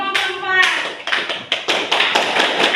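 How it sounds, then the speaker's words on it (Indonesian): Classroom applause for a student group: a burst of hand clapping from a small class, moderately loud and near, continuing steadily for a few seconds with some individual claps standing out. "kita beri aplaus untuk kelompok"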